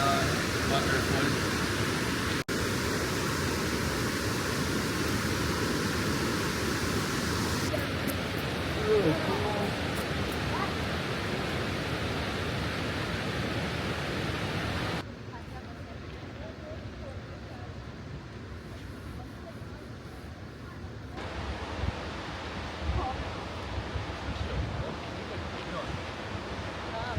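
Waterfall in Banff, heard as a steady, loud, broadband rush of falling water with some wind buffeting on the microphone, continuing throughout while a voice occasionally speaks over it.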